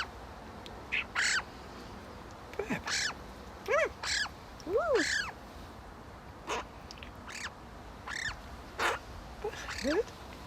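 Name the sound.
pet bird calling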